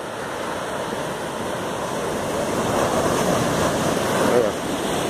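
Ocean surf washing over a rocky beach with small stones, a continuous close rushing wash rising and falling, mixed with some wind noise.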